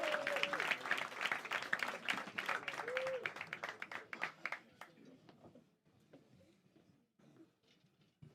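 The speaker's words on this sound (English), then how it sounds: "Start the round of applause." A comedy club audience at Hot Water Comedy Club breaks into a round of applause, with dense clapping and a few whoops that thin out into scattered claps and then fade.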